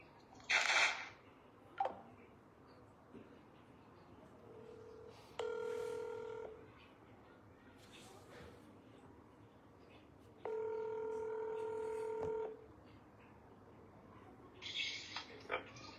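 Two bursts of telephone dial tones, each a steady run of stacked tones lasting about two seconds, sound while a call is placed, with scattered soft clicks and brief handling noises between them and no speech.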